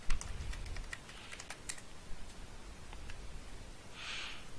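Computer keyboard typing while entering a password during first login and setup of a Raspberry Pi, light irregular key taps close by, quiet and alone, with a brief faint hiss near the end.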